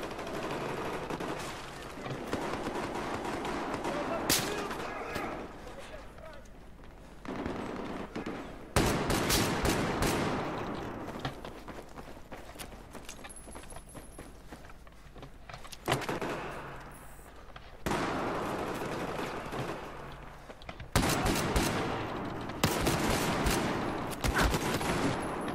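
Gunfire in the video game Battlefield 4 comes in repeated bursts of rapid shots and volleys, broken by quieter gaps, loud and close throughout.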